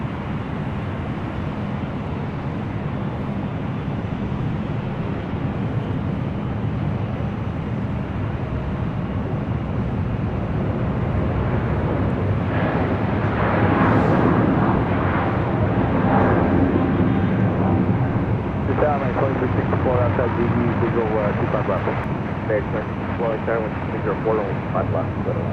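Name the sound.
airplane taking off from LAX runway 25 right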